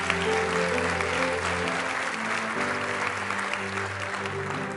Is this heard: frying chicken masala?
no